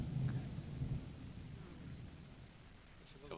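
A soundboard thunderstorm effect plays faintly, with a low rolling rumble of thunder over a constant hiss of rain.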